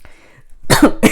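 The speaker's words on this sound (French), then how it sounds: "Ça me fait tousser" Two harsh coughs in quick succession, close and loud, after a brief moment of quiet.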